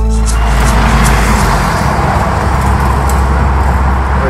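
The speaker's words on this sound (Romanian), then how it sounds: "Uite ăla, cred că e autobuzul nostru." A city bus on a Paris street rumbles steadily and loudly with a low engine drone and road noise, no pauses throughout.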